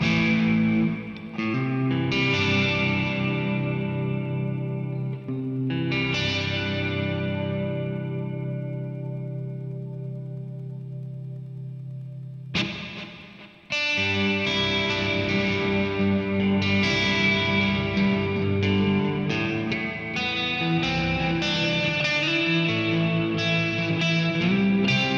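Electric guitar played through a Kemper profiler with EQ, delay, chorus and reverb: sustained overdriven chords ring out and decay, then a busier run of notes follows, wide and echoing, with no talking.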